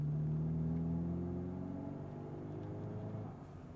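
A Mercedes CLA250 with a Sprint Booster pulls in third gear at modest revs, a low steady engine drone with a rising tone early on that eases and fades slightly toward the end.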